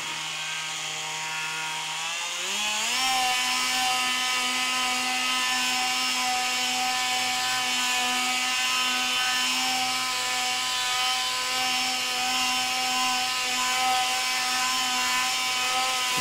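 Dremel Velocity VC60-01 7.0 amp corded oscillating tool removing paint, revving up from a lower speed to 16,000 RPM, then a loud steady high-pitched buzzing whine with rubbing scrape, alone.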